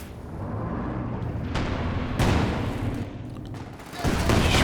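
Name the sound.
artillery barrage and gunfire in the video game Company of Heroes 2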